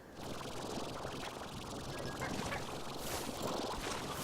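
Chickens in the video game Slime Rancher cluck and squawk as a steady, busy chorus of synthetic bird calls throughout, fairly loud and close with no talking.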